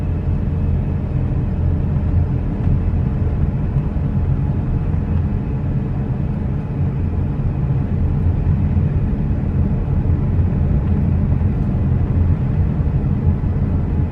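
A car drives at steady speed along a dark, quiet rural Florida highway at night, its engine and road rumble forming a continuous, even drone heard from inside the cabin, with no talk.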